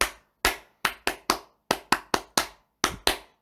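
Bare hands clap out a rhythm in a clapping song game, about a dozen sharp, close claps in uneven groups, with silence between them and no voices.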